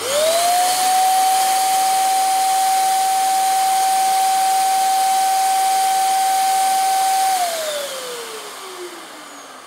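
A Farkas FX-SG6540 electric paint spray gun runs with no load, giving a steady loud motor whine with broadband hiss that holds level for about seven seconds. It then winds down with a falling pitch.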